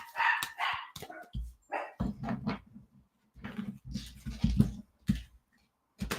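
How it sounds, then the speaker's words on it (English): A small Havapoo dog yaps repeatedly in short, sharp bursts with brief pauses between, close and fairly quiet, with some higher yips mixed in. "She's a little Havapoo. And they are as yappy as you'd think they would be."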